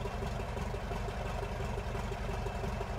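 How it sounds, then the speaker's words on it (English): Simulated DH82 Tiger Moth biplane engine idling in Microsoft Flight Simulator, a steady, even low rumble with a faint rapid pulse, holding constant throughout with no voices. "coming all the way back to idle, we should be idling around 550 to 600 RPM"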